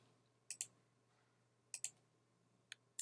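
Mouse clicks in Maya XGen: crisp paired clicks, one double-click near the start and another a second later, then two single clicks, each sharp and close over a faint steady hum.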